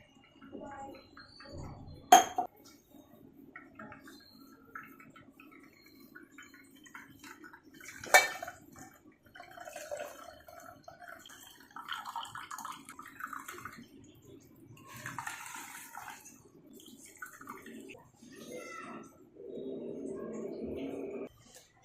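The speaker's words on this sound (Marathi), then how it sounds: "याच्यावरती आपण पाणी टाकून स्वच्छ धुवून घेऊयात।" Water is poured over a clean cotton cloth set on a strainer to rinse curdled milk solids in a home kitchen, with a steady splashing stretch near the end and scattered clinks, mixed with talking.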